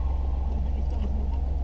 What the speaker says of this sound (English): So this is the engine just idle